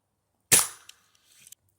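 A Ruger pellet gun fires a hollow point pellet: one sharp, loud crack close by that decays quickly, followed by a few faint ticks and rustles.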